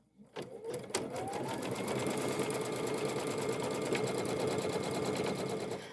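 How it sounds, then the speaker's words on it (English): An embroidery machine stitches a fused fabric square in the hoop for a quilting project, a rapid steady mechanical chatter that starts up after a few clicks and runs continuously at close range. "now we're going to stitch that fused square in position"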